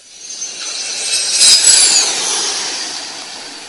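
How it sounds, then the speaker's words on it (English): Mirage and F-7 fighter jets land on a makeshift motorway airstrip during a military exercise. The jet roar builds to a loud, steady rush and peaks briefly before easing slightly, with no voices. "Mirage and an F-7 fighter jet circled thrice above the makeshift landing strip on the motorway before making smooth landings"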